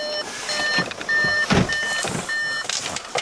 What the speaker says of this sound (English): So the car's telling me off because I had the ignition on.